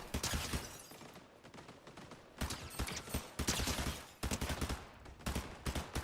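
Rapid bursts of submachine gun fire in a first-person shooter game, several rattling volleys separated by short pauses, fairly close and sharp.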